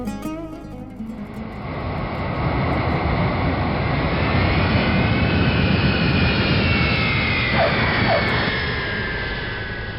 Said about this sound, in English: the plane lands on the runway at Kandahar Airport